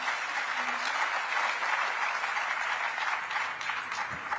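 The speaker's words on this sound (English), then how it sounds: "And you hear the round of applause" A round of applause fills a Cop28 climate conference session hall, dense and steady from start to finish with no voices over it.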